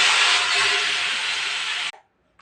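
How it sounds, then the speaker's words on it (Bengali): Chili and cumin spluttering in hot oil for a tempering, a loud steady broadband sizzle close by that runs for nearly two seconds, then cuts off sharply into near silence. "ফোড়ন দিয়ে দেবো, লঙ্কা জিরে দিয়ে ফোড়ন দেবো।"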